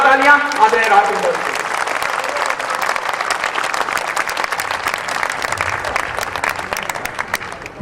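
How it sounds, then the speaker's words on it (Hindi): Audience at a kavi sammelan (poetry gathering) in Udaipur, Rajasthan, breaks into loud sustained applause, with a voice briefly over the opening moments before the clapping continues strongly on its own. "एक बार जोरदार तालियां आदरणीय राजेंद्र।"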